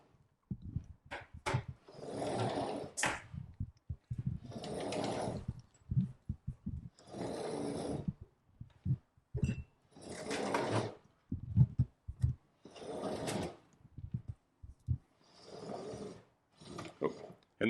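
Hose is pulled out of a Himimi 80 ft retractable air hose reel in repeated pulls, each a rattling, ratcheting mechanical whir lasting about a second, separated by short pauses and clicks.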